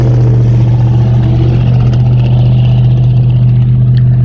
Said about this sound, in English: Guy's got a nice truck and a crappy sound.